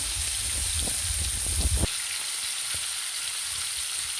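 Fish deep frying in hot oil in a kadai, a loud, close and continuous bubbling sizzle with a few low stirring knocks early on, no voices.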